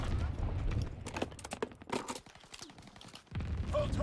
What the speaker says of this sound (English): Salvo commenced, clearing the skies.